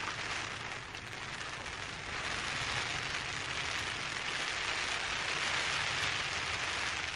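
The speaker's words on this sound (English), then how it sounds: "oh, rain, look, can you hear that?" Steady rain falling in the mountains during a camping trip, an even, dense hiss of drops on surrounding surfaces that holds constant throughout, close and moderately loud, with no voices.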